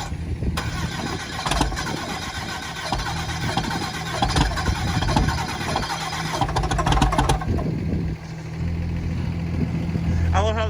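A 2005 Cummins 6.7L diesel on first fire cranks over at length, then catches and runs rough, loud and close, with people talking nearby throughout.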